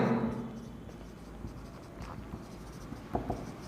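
Writing on a board during an accounts class: scratchy pen or chalk strokes in short bursts with brief pauses, close and moderately loud, with no talking.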